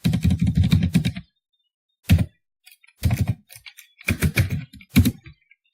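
Computer keyboard keys tapped in short bursts while a word is entered into a spreadsheet cell, with quick clustered clicks separated by pauses, close and clear with no talking.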